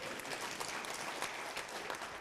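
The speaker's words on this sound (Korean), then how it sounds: "다시 한번 우리 원어들을 위해 고생을 해주시는 백태현 팀장님께 박수 부탁드립니다" A hall audience at a graduate school entrance ceremony applauds a team leader, producing a faint, steady wash of clapping from start to finish.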